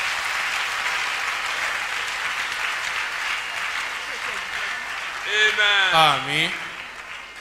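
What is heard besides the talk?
congregation clapping in church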